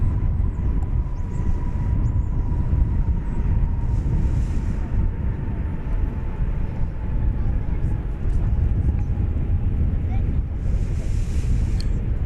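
An airliner arrives at DFW Airport after a flight from London, heard as a steady, heavy low roar with wind buffeting the microphone at close range, while people talk over it.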